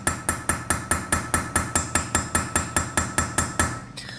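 Metal hammered on an anvil while forging a rune necklace: steady, evenly spaced ringing blows, about four per second, loud and close, around fifteen strikes before it stops, no talking.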